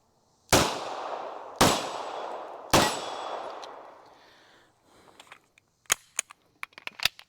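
Three loud, sharp shots from a Canik TP9-SFX 9mm pistol ring out about a second apart, each trailing off in a long outdoor echo, followed by scattered distant cracks and clicks.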